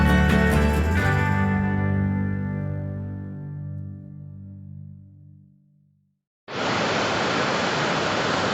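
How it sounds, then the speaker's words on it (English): A long ringing musical chord fades away into near silence, then a roadside waterfall on the mountain route to Gurudongmar Lake comes in abruptly as a steady, loud roar of falling water. "look at the beautiful waterfall there."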